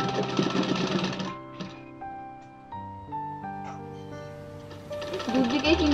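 A sewing machine stitches a rolled hem on a baby frock made from leftover fabric scraps, its steady whirring running in bursts with pauses between, nearby and moderately loud.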